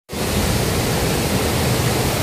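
Tinuy-an Falls in Mindanao pours in a dense, steady roar of falling water, loud and close, starting abruptly and holding constant without voices.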